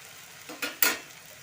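Tender bottle gourd pickle stirred after lemon juice is added, two short scraping strokes of a spoon against the pan over a faint background hiss.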